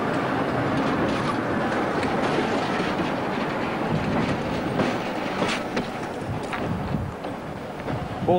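Diesel locomotive 47258 hauling freight wagons along a branch line, rumbling continuously with steady clickety-clack of wheels over rail joints and some wind buffeting, close and loud throughout with no talk.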